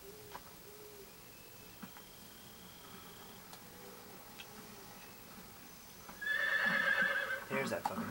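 A horse whinnies loudly near the end in Metal Gear Solid 3, following a long stretch of quiet background with faint scattered ticks.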